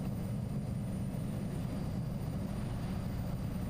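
A Twin Otter turboprop in Microsoft Flight Simulator drones with a low, steady engine rumble and faint whine as the propeller is feathered during shutdown, continuous and unchanging throughout.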